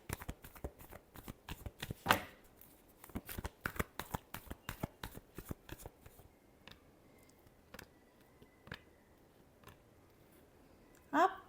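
Tarot cards being shuffled in quick bursts of crisp riffling clicks, close and fairly soft, with a louder flurry early on and another at the end, separated by sparse single card taps.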